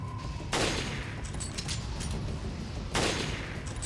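Two loud sniper rifle shots about two seconds apart in Resident Evil Revelations Raid mode, each a sharp crack with a trailing echo over a steady bed of game ambience.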